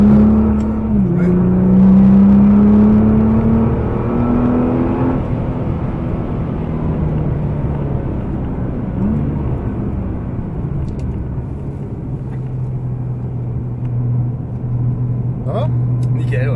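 A Nissan GT-R engine drones and revs on a race track, a steady in-car rumble with rising and falling pitch during acceleration, while people talk over it.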